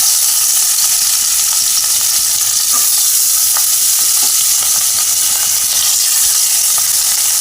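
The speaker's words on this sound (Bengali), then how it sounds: "এবার মাছগুলোকে আমি এক এক করে ছেড়ে দিচ্ছি" Katla fish pieces sizzle steadily in hot oil in a kadai, a continuous close, loud frying hiss with occasional pops and spatters, no voices.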